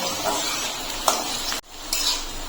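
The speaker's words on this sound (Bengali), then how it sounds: "প্রথমে আলুটাকে আমি একটু ভেজে নেব" Potatoes frying in a pan with tempered spices for a pumpkin curry, a steady sizzling hiss with a brief stir and clink partway through, then the sizzle resumes.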